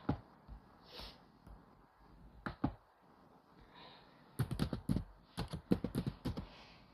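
A small computer keyboard typed on in scattered clicks, then a quick burst of rapid keystrokes, close and fairly quiet, with no talk.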